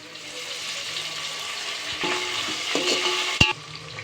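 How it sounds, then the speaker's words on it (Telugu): Steady sizzling of coriander, mint and curry leaves frying in a pan, with a few scrapes and a sharp clink near the end. "మంచిగా ఫ్రై అవుతుంది."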